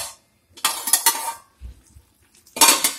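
Metal pot lid lifted off a pan of chicken curry with potatoes, two bright clattering bursts of clinks and scrapes separated by a short pause, close and fairly loud with no talk.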